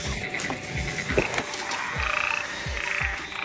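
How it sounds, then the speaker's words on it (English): A frog croaks close by in a repeated series of low, throaty pulses against a steady background of night insects and ambient noise. "There is another frog here."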